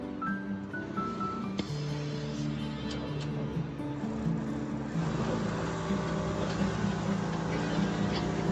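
A computerized HFJ-26Z-2 single-needle quilting machine with servo motor running steadily, a continuous mechanical hum with tonal whine and a rise in intensity midway, close and loud.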